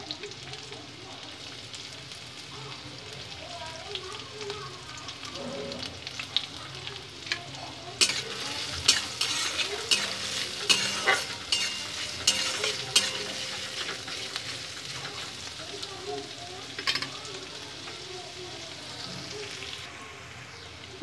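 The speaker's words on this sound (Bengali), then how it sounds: "পেঁয়াজটা ভাজা ভাজা হয়ে গেছে" Chopped onion frying in a pan with nigella seeds and dried chilli, a steady oil sizzle broken by scraping, clattering stirring strokes that grow busier midway, close and fairly loud.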